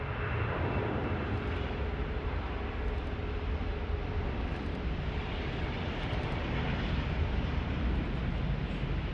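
An aircraft at Sydney Airport roars with a broad, steady engine rumble, constant and fairly distant, with no speech over it.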